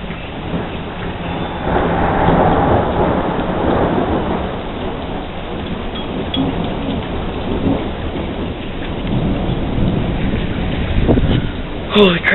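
Massive thunderstorm outdoors with steady heavy rain hissing and low thunder rumbling through, loud and continuous, with a sharper crack near the end.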